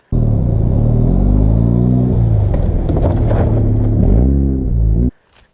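A Mazda RX-7 charges hard down a decreasing slope, its engine roaring loud and close in a sustained rev with rising and falling pitch, holding steady for about five seconds before cutting off abruptly.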